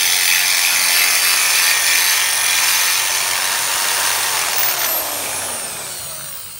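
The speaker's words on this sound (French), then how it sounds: "Alors là on perce le guidon pour passer les câbles à l'intérieur." A power drill bores holes through a Harley-Davidson Sportster handlebar, a loud continuous high whine with a slight downward pitch sweep, fading toward the end.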